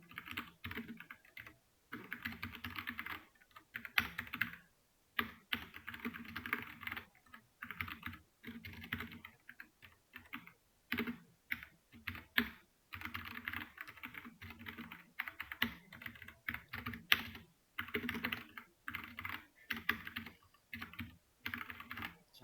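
Steady, rapid typing on a computer keyboard while Python code is written, key clicks and occasional heavier space or enter presses coming in bursts and short pauses, close and fairly soft with no talking.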